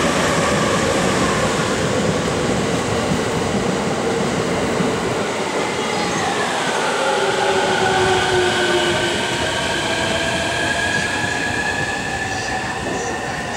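A loud train rumbles through Hasuda Station, wheels grinding steadily with a rising and falling electric whine and brief squeals.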